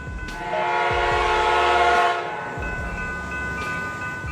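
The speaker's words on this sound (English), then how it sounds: "It's a 3-car Trinity Railway Express train, not a 100-car grain transport train." A three-car Trinity Railway Express commuter train sounds its loud horn in a long blast while wheels rumble and clack over the rails nearby.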